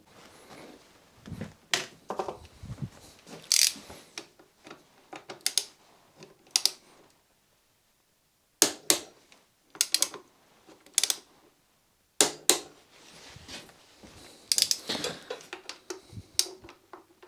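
Tools click and tick against metal while Yamaha FZ6 brake caliper carrier bolts are torqued up, giving short sharp ratcheting bursts separated by brief pauses, close and moderately loud with no talking.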